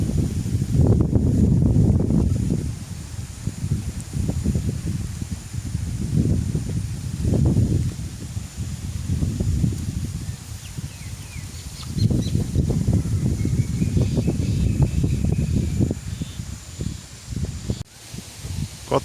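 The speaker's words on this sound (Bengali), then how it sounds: "বাতাস, ঘূর্ণিঝড়ের প্রভাব দৃশ্যমান।" Strong gusty wind during a cyclone sweeps across an open rural area near a sand-cut site, roaring in long low surges that rise and fall, close and loud against the microphone.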